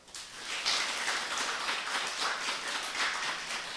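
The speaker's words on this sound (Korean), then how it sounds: "우리 박수로 축복하겠습니다." A church congregation claps together in blessing for youth and young adults at an early-morning special prayer service, a dense, steady wash of hands that holds from start to finish at moderate distance.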